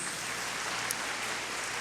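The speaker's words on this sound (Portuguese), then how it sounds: "Você pode aplaudir a Jesus?" A church congregation claps together in a steady, fairly faint wash of applause that runs unbroken, with a low hum underneath.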